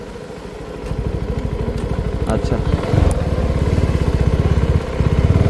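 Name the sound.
CF Moto NK250 naked motorcycle engine running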